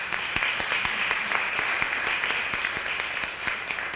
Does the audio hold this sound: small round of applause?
yes